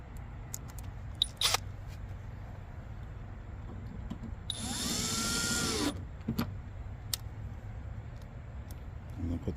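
Power tool whirs in one steady burst of about a second and a half while nuts are run onto a Dodge Ram 1500 rear door handle, with a quiet garage hum and small clicks around it.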